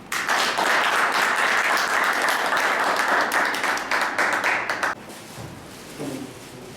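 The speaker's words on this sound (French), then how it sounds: "je demande à mes collègues, tous du Grand Kasai, d'acclamer le président" An audience gives the president loud applause at a Grand Kasai gathering, with sustained dense clapping that fades and breaks off after about five seconds into quieter room sound and a faint voice.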